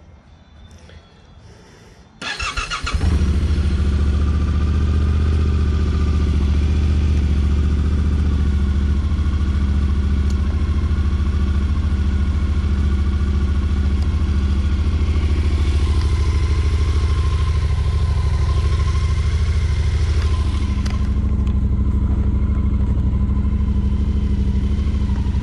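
A brand-new Yamaha Ténéré 700 Rally Edition motorcycle with zero kilometres fires up after a brief quiet moment, then settles into a loud, steady, close-up idle with a deep throbbing rumble that runs unbroken to the end.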